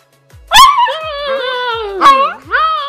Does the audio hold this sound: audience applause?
no